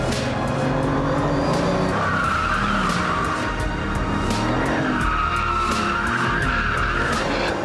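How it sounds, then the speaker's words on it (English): A 1,000-horsepower Bugatti Veyron pulls out of a track hairpin in first gear on a gingerly opened throttle. Loud, continuous engine roar runs under squealing, skidding tires, with rising and falling pitch throughout. "Now I've got to open the throttle very gingerly."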